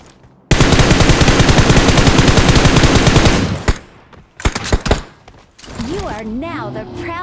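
Heavy sustained automatic gunfire from the battle royale game BGMI, a loud continuous burst lasting about three seconds, followed by a few sharper separate shots and then a voice speaking.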